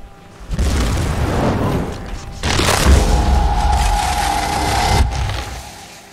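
A loud explosion bursts in the Skyrim video game, a deep booming blast that swells twice over about six seconds, with rumbling low-end energy and a sustained roar between the hits, with no talking.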